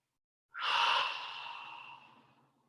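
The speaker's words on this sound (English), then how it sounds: "breathing really deep inhales" A single deep inhale during a yoga hamstring stretch, a long breathy rush of air that swells quickly, then tapers over about two seconds, close to the microphone with no talking.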